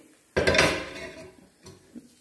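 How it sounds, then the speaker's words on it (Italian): A sharp metallic scrape of hot caramelized almonds being pushed from a pan onto baking paper, then fades to a few lighter clinks and taps near the end. "Adesso io le trasferisco sulla carta da forno"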